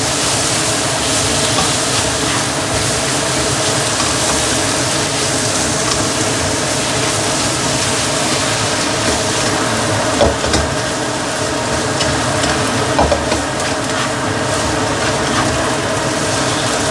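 Vegetables sautéing with spices in a pan for Indonesian lodeh give a steady, dense sizzle that runs unbroken throughout, with a couple of small clinks near the end and no talking.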